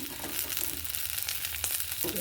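Onion, garlic and green chilies fry together in a pan in a village kitchen, giving a loud, steady hiss with a few soft stirring clinks and no speech.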